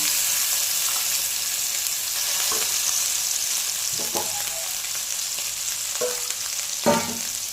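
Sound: roasted tadka paste sizzling as it is added to the pan

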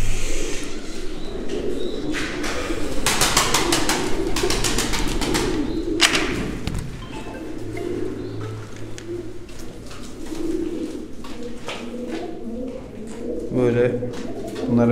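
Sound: Mardin tumbler pigeons cooing

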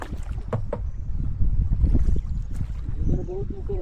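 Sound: rowing a boat on a lake

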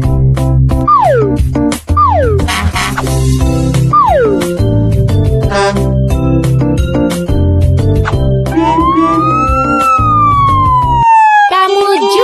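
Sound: emergency vehicle siren in a traffic jam

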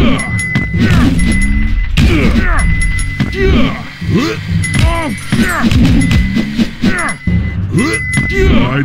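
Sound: dive bomb impact from Henry Danger Crime Warp video game

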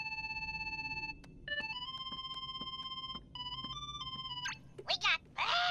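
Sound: gummi phone ringing in Kingdom Hearts 3 video game

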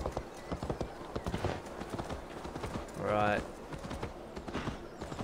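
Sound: horse galloping in a video game

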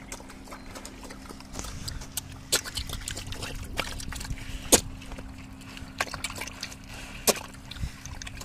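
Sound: pigs sucking up water while eating

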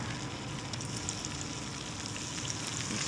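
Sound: coral trout frying in butter

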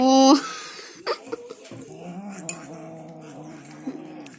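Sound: hungry cat

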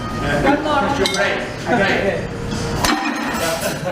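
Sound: ceramic plate thrown and smashed for good luck

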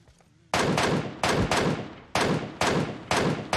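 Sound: gunfire in PUBG Mobile video game

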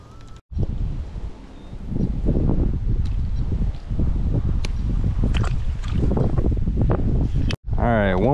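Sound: strong wind blowing while fishing from a boat

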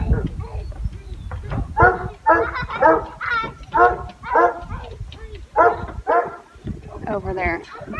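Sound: dogs barking while playing with kids

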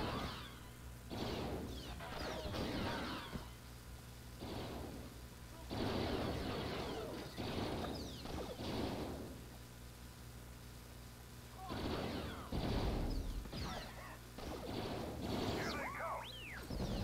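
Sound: chain gun firing in Star Wars Renegade Squadron video game

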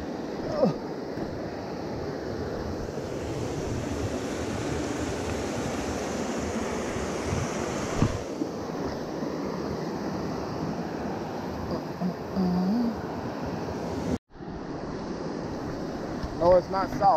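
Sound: creek with waterfalls flowing, Mountain Fork River

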